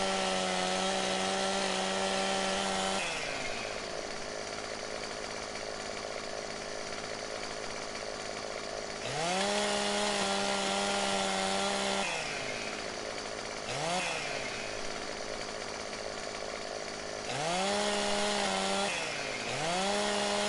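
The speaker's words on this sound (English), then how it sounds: "As you can see, the chainsaw cuts it forever." A chainsaw in the Farming Simulator 17 logging game cuts through logs on PS4, its loud engine whining at full revs in long sustained bursts that drop to a lower idle between cuts, repeating several times.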